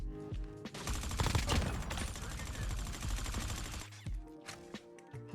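KN-44 rifle fire in the mobile shooter COD Mobile, a dense rapid burst of sharp automatic shots lasting several seconds, then a few scattered single cracks, close and loud with no talk over it.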